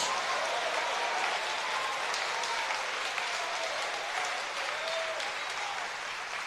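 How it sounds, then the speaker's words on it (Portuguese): A church congregation applauds during a sermon, a steady, even wash of many hands clapping at moderate distance, with faint voices calling out above it throughout. "E agora eu quero ouvir uma forte salva de palmas para Jesus, misturado com glória a Deus."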